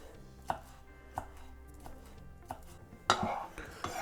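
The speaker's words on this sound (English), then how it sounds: "Got a green onion here. We're just gonna chop this into little slices to put on the top." A knife chops a green onion into small slices on a board, giving sharp distinct taps roughly every two-thirds of a second, close and clear, ending with a louder knock and clatter.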